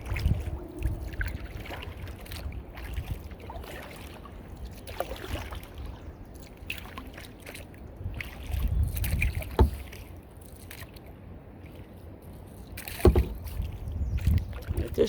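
A boat being paddled across a pond in Vermont: steady low water swirl and soft splashes from paddle strokes, with louder dips around the middle and near the end, close and fairly quiet.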